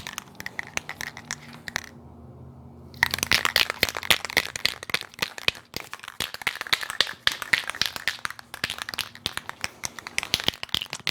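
Rust-Oleum self-etching primer hisses from an aerosol can in rapid crackly bursts onto a 1956 Volkswagen oval-window body, close and continuous apart from one short pause.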